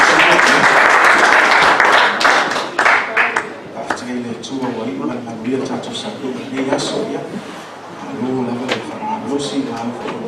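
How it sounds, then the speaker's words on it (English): A church congregation claps together as a clap offering during a Sunday morning service, a dense burst of applause in the opening seconds that thins out as a voice talks over the fading claps. "Why don't we give a clap offering for Jesus this morning?"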